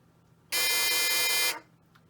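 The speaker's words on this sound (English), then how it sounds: "flash those lights and sound that obnoxious buzzer, indicating that you failed" An obnoxious failure buzzer from a light-sequence memory game project sounds once, a loud flat harsh tone lasting about a second before cutting off.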